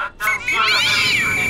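A single drawn-out cat meow rises and falls, close and fairly loud, following a short bit of noise at the start.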